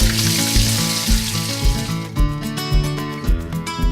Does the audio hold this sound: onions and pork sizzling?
yes